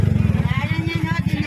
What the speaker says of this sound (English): there's a motorcycle going through